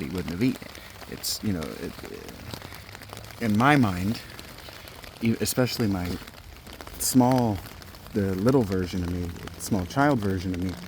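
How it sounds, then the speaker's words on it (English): Heavy rain pours onto a tent in a steady, close, broadband hiss that runs beneath someone talking throughout. "I don't know if you can hear, but it is pouring outside."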